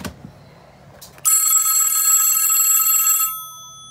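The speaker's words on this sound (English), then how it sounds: "that clapper is moving back and forth between the bells." A Western Electric 500DM desk telephone's bells ring loudly and rapidly for about two seconds, a bright metallic trill from the clapper that then stops, leaving a fading hum.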